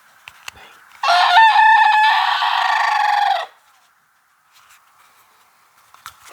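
A rooster gives one long, loud crow close by, held for a couple of seconds and then cut off, with near-silence around it.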